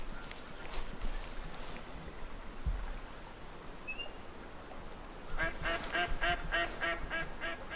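Ducks call in the hunting game Way of the Hunter, Nez Perce Valley, over a steady outdoor ambience, with a cluster of repeated quacking calls growing louder toward the end.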